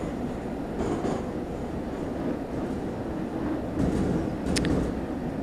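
A metro train running through a tunnel in the video game Garry's Mod: a steady, dense rolling rumble and rail roar that swells slightly in places, continuous and moderately loud, with no talking.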